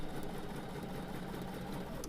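A sewing machine stitches a quilt block from precisely laser-cut pieces with a scant quarter-inch seam, giving a steady, faint mechanical whir that runs without a break.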